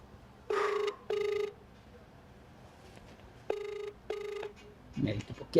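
A telephone on loudspeaker rings in four bursts: a pair of rings, a pause, then another pair, each burst a bright warbling tone, moderately loud, with quiet room background and a brief muffled knock near the end.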